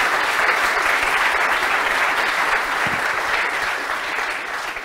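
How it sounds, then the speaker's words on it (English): Sustained audience applause at a tech conference fills the room as speakers finish their talk, steady and dense throughout with no voices standing out. "applause for speakers."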